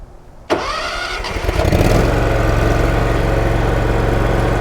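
A John Deere Z920 zero-turn mower's small engine cranks and catches with a sharp start, revs briefly, then settles into a steady, loud half-idle rumble nearby.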